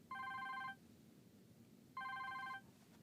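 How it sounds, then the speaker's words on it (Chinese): A telephone rings in two electronic bursts, each about half a second long with a long gap between them, heard on its own over a quiet room background with no talk. "我接个电话。"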